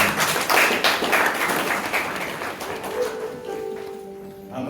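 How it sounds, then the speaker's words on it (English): Church congregation clapping for the women during a Lent homily, rapid dense applause up close that thins and fades out over several seconds, with a faint voice near the end. "I think our ladies and women deserve a clap for their contribution."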